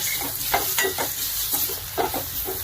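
Spices sautéed with salt in a pan for Marathi chakolya: a close, steady sizzle broken by several soft scraping strokes of a spoon stirring.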